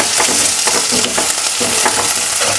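Onions and tomato saute in hot oil in a pan, giving a loud, continuous sizzle with crackling pops and stirring scrapes throughout, and no one talking.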